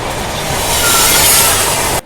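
A WAP7 electric locomotive rolls in on the rails to couple onto a train, a loud, steady rumble and rushing noise close by that cuts off abruptly at the end.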